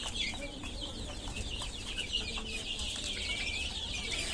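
Desi chickens about three months old, raised for meat, cluck softly and intermittently over a continuous background hum, with no clear talk.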